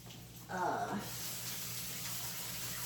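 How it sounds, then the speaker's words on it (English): Running water from a tap pours steadily over bean sprouts in a strainer: a brief splashy burst, then a constant hiss that continues to the end, with a short stretch of talk at the start. "Give those a quick rinse."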